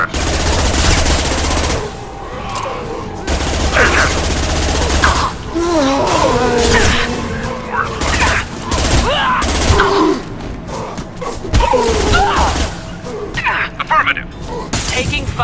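Rapid gunfire rattles through a firefight in Mass Effect 2, bursts of automatic shots and sharp cracks coming in waves, with voices calling out over the shooting.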